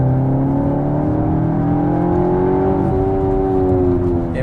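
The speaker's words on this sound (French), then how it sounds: "Et on a même la chance d'avoir un pot à Krapovic. Et celui-là, il sait donner de la voix." A Cupra Formentor fitted with an Akrapovic exhaust accelerates, its engine note rising steadily in pitch as it pulls hard through the revs, loud and close with no talking.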